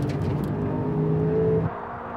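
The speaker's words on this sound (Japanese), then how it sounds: "でも NSX は GTR をパス" A Honda NSX sports car accelerates hard past a Nissan GT-R in a revenge battle on a circuit, its engine note rising steadily in a close, continuous roar before dropping abruptly as it goes by.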